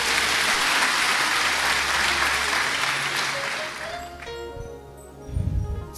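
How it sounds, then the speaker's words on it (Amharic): A church congregation applauds in a dense, loud, sustained burst that fades toward the end, with scattered voices and a low thump emerging at the close. "አጨብጭቡ ለጌታ።"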